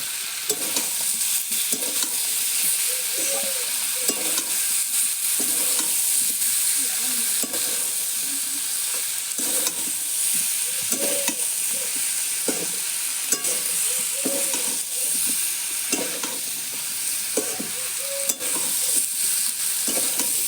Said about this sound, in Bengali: দিয়ে মশলার সঙ্গে আলু এঁচোড় ভালো করে কষিয়ে নেব